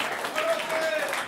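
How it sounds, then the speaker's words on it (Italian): Audience applause for the artist Luciano Lunazzi at a live art performance, a steady crowd clapping with some voices mixed in, moderately loud and continuous. "applaudite Luciano"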